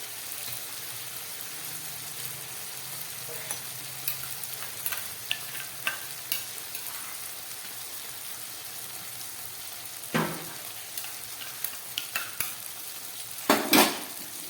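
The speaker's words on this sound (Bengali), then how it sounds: "লঙ্কা জিরে দিয়ে নুন দিয়ে খুব ভালোভাবে কষিয়ে নিলাম।" Chili, cumin and salt fry in a pan while being stirred for a paneer malai curry, a steady soft sizzle broken by a few sharper scrapes and clinks of the spatula near the end.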